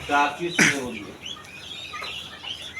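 Chickens cluck at a quail farm, with a loud nearby squawk early on and softer calls and chirps afterward against busy farm background, a voice speaking as well.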